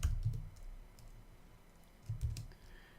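Two short bursts of computer keyboard typing while a router command is entered, soft clicks clustered near the start and again toward the end, with quiet room tone between.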